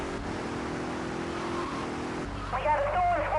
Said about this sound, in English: We got a stolen squad car driving erratically.